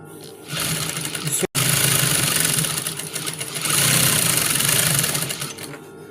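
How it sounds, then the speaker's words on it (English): A sewing machine stitching a native cap runs in a fast, continuous whirring hum up close, pausing for an instant early on, then speeding up and slowing again before stopping. "you have to sew it round so that it won't remove"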